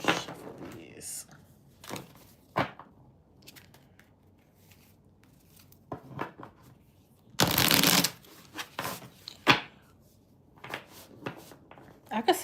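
Tarot cards are shuffled in several quick riffling bursts, close and crisp, with quiet pauses and soft handling noises between them.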